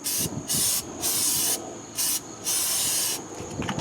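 Short bursts of aerosol lubricant hiss onto the brake rotor hub face of a 2010 Mazda 3 rear brake, about five close, loud sprays separated by brief pauses.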